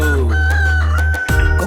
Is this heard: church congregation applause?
no